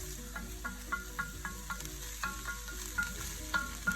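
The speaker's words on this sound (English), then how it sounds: "you want to saute your onions until translucent" Two onions sauté in a pan for a tikka masala sauce, giving a soft, steady sizzle marked by regular light clicks of a spoon stirring, with no voices.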